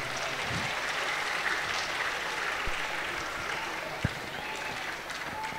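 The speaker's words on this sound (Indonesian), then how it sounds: "Tepuk tangan berdua." Applause from an audience at a public lecture gathering, broad steady clapping with background voices and a couple of sharp knocks, sustained at an even level from start to finish.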